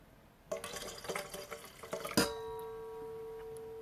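Hot water poured into a bowl for a hot-towel skin cleanse, a close, bubbling trickle of several seconds ending in a single clink and a ringing tone that fades slowly.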